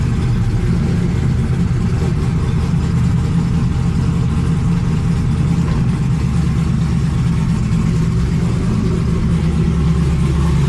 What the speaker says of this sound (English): Cranks right on up, boys.